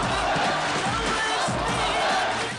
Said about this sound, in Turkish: Esad'ı salona girişinde taraftarları ayakta ve alkışlarla karşıladı